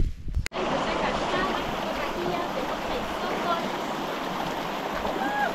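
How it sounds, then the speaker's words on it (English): Clear, clean river water flows smoothly in a steady, close rush that runs unbroken after a short knock at the very start. "You can see the smooth flow of water."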